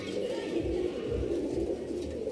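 Kotashi breed pigeons, including a male, cooing softly in a loft, a low steady murmur of coos running throughout without pause.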